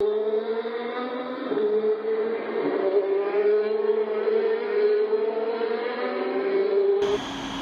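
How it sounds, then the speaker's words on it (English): A truck runs steadily under load on a dynamometer at an Allison Transmission test facility, a loud sustained engine drone with a slight rising pitch that holds for about seven seconds and then cuts off abruptly. "So when a truck is set up on the dyne, testing, this is kind of what it looks like."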